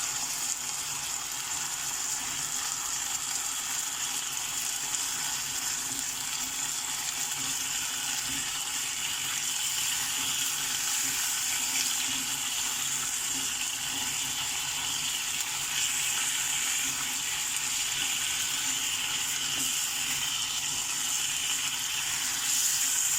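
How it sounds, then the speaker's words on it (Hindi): Chicken fries in a pan, a loud continuous hiss and sizzle of hot oil that stays steady throughout, with no voices. "बस इसको सिंपली फ्राई करना है कि चिकन हमारा अच्छे से चारों तरफ से फ्राई हो जाए।"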